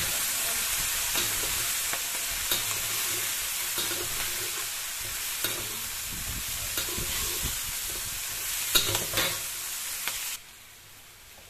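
Carrots tossed into a pan of mixed vegetables fry with a steady, close sizzle and intermittent stirring scrapes, continuous for about ten seconds before dropping away quietly.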